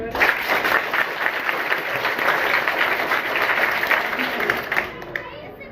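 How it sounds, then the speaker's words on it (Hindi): A school audience at a village school event in Jaunpur claps in a steady round of applause lasting several seconds, with voices mixed in beneath the clapping before it tapers off at the end. "बताओ ताली"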